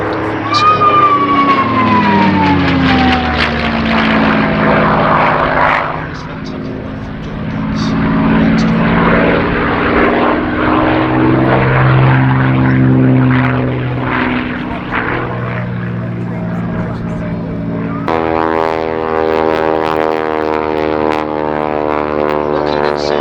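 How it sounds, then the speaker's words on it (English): Propeller-driven Mustang fighter passing at an airshow, its engine droning and swelling with a shifting pitch as it goes by, with a commentator talking over the sound. "the last pass from the B-50 Mustang."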